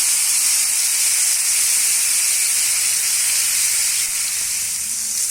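Fish frying on a flat tawa produces a loud, constant broadband hiss of hot oil that stays steady throughout, close up and with no voices.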